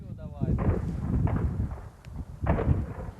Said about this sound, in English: The Russians shoot back.